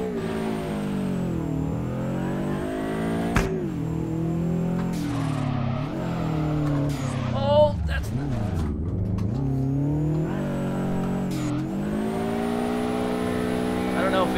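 A Subaru BRZ drifting in the Drift21 racing game, its engine droning and revving up and down continuously with tyre squeal hints, while someone talks over it throughout.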